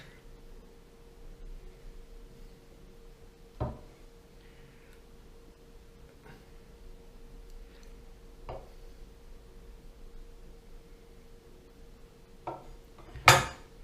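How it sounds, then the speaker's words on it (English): Boiled eggs being cut on a plate for devilled eggs, a sparse series of faint knife taps and clinks against the plate in a quiet kitchen, ending in a louder clatter, with no talk. "So we're gonna start cutting our egg."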